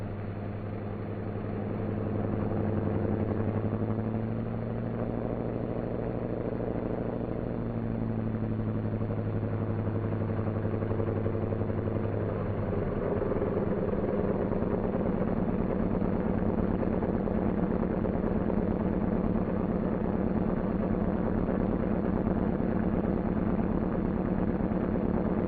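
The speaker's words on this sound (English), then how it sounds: "we've got to start the other engine before we can taxi" A C-47 aircraft engine idles after start-up with a steady, low, continuous drone and a slight change in pitch partway through, loud and close, with no talking.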